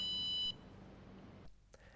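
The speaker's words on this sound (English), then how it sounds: "When you reach the maximum or minimum limit, you will hear the long beep." A SCENAR Home D treatment device gives a sustained high electronic beep as its energy setting hits the limit, steady and clear before cutting off into quiet room tone.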